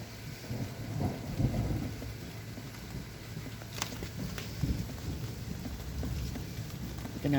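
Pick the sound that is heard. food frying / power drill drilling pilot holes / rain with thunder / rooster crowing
rain with thunder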